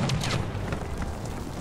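Grenade explosion in the World War II shooter Battlefield V, a low rumbling boom that fills the whole moment amid noisy battlefield din.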